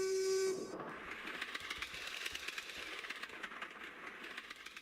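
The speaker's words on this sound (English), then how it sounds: "I can't get over how they sound like trains in this game." Tugboats in a video game giving loud steam-whistle blasts like trains, a steady harmonic whistle cutting off after half a second, then a continuous rushing, clattering rail-like rumble that carries on to the end.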